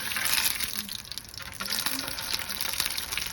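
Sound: tomato paste frying in oil on the stove

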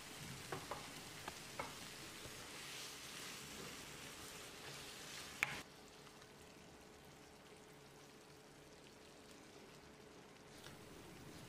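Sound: chapati side dish gravy boiling in pan

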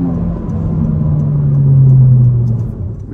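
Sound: 2024 Honda Civic Si engine accelerating at half throttle

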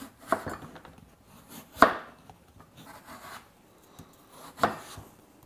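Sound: knife chopping pumpkin into cubes

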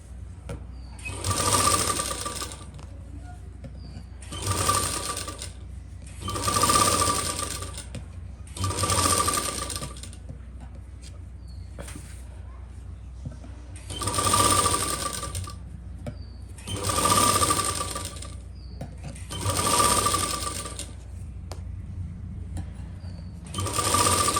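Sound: sewing machine stitching fabric of a Burberry lining suit

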